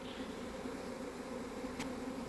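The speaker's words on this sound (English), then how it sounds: "there's a lot of bees going in there." A swarm of Italian honey bees buzzes close by, a dense, steady hum of many wings with a single louder pass near the end; no voices.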